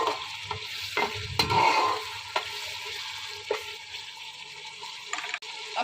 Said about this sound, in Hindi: इसे भी हल्का सा भून लेते हैं बीच में।